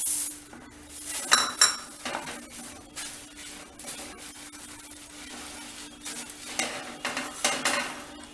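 A cup of puffed rice tipped into a pan for pori urundai ladoo gives a dry rustling patter with light metallic clinks and scraping stirs, close and moderately quiet, in several short bursts.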